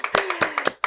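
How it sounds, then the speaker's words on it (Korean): Audience applause at a Gimpo community broadcast, heard as a few distinct close hand claps in an uneven rhythm, loud and near. "정말 감사하다는 박수 한번 보내드릴까요?"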